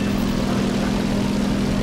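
A propeller aircraft engine drones steadily in War Thunder during a dive-bombing tutorial as power is being reduced, a loud continuous low hum with a strong tonal note and no breaks.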